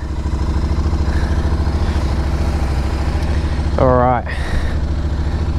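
A brand-new Royal Enfield Continental GT motorcycle engine starts for the first time and settles into a steady, thumping idle close by. A person speaks briefly over the engine.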